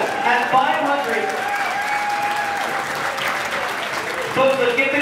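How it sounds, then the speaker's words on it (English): Sustained applause and clapping from a crowded room at a fundraiser auction, steady and loud throughout, with voices mixed into the din. "Folks, let's get the clap going."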